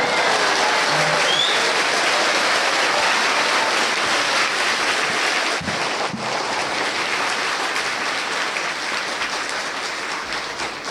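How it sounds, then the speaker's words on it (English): An audience claps after a story in a long, steady wash of loud applause that tapers slightly toward the end, with no speech over it. "Even though you heard the story again, you clap like first time."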